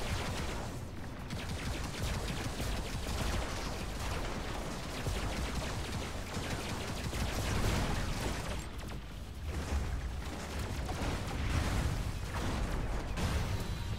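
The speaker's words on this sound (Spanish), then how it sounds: "La ametralladora esa me lincha." Dense, sustained machine gun fire with overlapping bursts and explosions in the Robocraft robot combat game, loud and continuous throughout with no talking.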